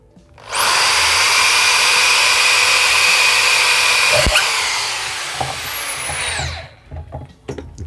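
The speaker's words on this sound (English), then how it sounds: "Then we're going to go ahead and drill it." A power drill whirs loudly and steadily for several seconds while drilling a hole in a piece of scrap wood, pitch dropping as it bites in, then winds down, followed by a few light clicks and taps.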